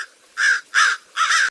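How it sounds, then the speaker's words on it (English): A crow caws three times in an even rhythm, each harsh call loud and close with short gaps between, and nothing else sounds around them. "crow"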